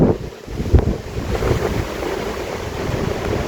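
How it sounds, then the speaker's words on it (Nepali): Wind gusting outdoors at a mountain base camp near a view tower, a steady broadband roar with buffeting against the microphone and no voices. "हावा चलेको थियो हेर्नुहोस्"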